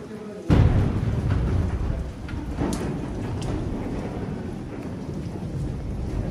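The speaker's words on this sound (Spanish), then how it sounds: "truenos, hijo." Thunder rumbles with steady rain falling outdoors during a novenario gathering in San Jerónimo Purenchecuaro, a sharp close crack at the start fading into a long low roll under continuous rain hiss.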